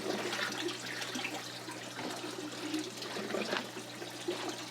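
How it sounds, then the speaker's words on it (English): Water pours steadily into a 27-gallon NFT hydroponics reservoir as nutrients are added, a continuous close rushing splash with a low steady hum beneath, with no speech. "the water pouring in will actually mix it for you"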